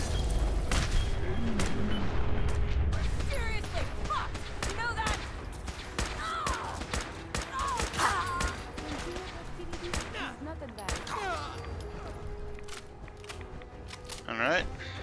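Gunfire from a gunner ambush in the video game Fallout 4 crackles in rapid bursts and scattered single shots over dense in-game noise.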